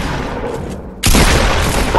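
A single heavy pump shotgun blast in Fortnite cuts in abruptly and loud after a second of quieter game ambience, leaving a full, booming wash that holds to the end.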